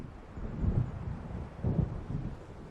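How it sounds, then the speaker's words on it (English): Approaching thunderstorm in Alan Wake Remastered, with low distant rumbles of thunder swelling twice over a steady windy hiss, no voices. "It seems there's a storm coming."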